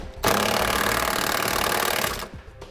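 An impact or power tool drives a 3/4-inch socket onto 1/2-inch carriage bolts while a Curt trailer hitch is installed on a 2016 Toyota Camry, giving one loud continuous whirring, rattling burst of about two seconds that stops abruptly.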